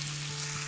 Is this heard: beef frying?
yes